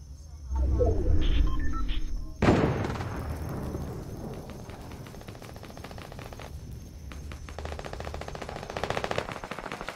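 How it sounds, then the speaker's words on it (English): Gunfire in Fortnite Battle Royale: a loud burst of rapid shots, then a sharp blast, followed by ongoing lighter bursts of automatic fire, with a voice talking faintly underneath. "I'm trying to find out where they're shooting."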